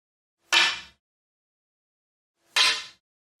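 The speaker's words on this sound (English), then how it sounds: "The cue vibration resulting from the sliding contact and secondary hits is what creates the distinctive sound you hear during a miscue shot." Two separate sharp, bright clicks of a pool cue tip sliding off the cue ball in a miscue, each a short harsh burst about two seconds apart, heard alone in quiet.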